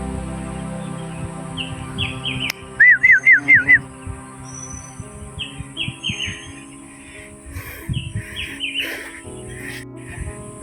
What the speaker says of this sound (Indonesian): suara burungnya masih asik